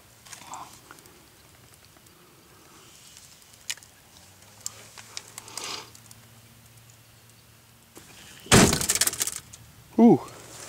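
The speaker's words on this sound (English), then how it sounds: "Let's see if we can open this door without" A bullet-riddled car door is pried open, and a loud burst of shattered glass crashes and tinkles down near the end, followed by a short scrape, after quieter handling noises.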